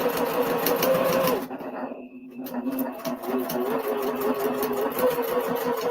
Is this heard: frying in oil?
no